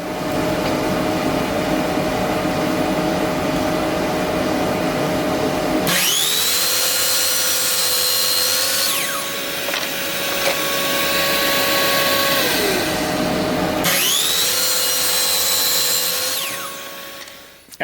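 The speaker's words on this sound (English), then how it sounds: "I'm going to use my miter saw here to make 2 45-degree cuts" A miter saw making two 45-degree cuts through the corners of a wooden box, each cut a loud motor whine that spins up, bites through the wood and winds down, heard up close over a steady hum of background machinery.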